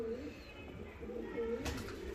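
Fancy pigeons coo nearby in a loft, with a few soft repeated coos over a quiet background.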